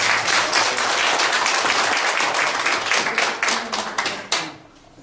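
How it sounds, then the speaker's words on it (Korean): A room full of people at a Korea University national policy course claps loudly and steadily for several seconds before the applause quickly fades out. "그런 의미에서 부탁의 박수 한번 보내주십니다."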